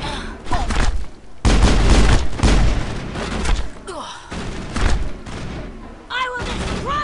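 Sniper rifle shots and other gunfire in the Mass Effect video game, loud bursts and booms coming in clusters amid busy game action, with a player's voice talking over some of it.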